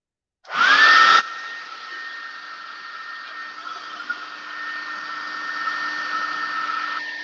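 A hair dryer switches on with a loud initial blast and then settles into a steady whooshing whine while drying glitter on a craft project, holding close and constant to the end.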